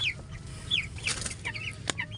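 Young chickens, raised for about 45 days, cluck and chirp repeatedly in a coop during feeding, short bright calls scattered over a low steady background hum, close and clear.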